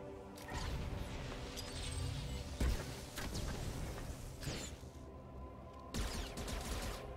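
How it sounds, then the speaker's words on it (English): A tracer missile attack in SWTOR, fired by a Mercenary Arsenal character, sounds as a dense run of impacts and explosive crashes, with sharper blasts standing out over ongoing game effects. "Tracer missile, let's go."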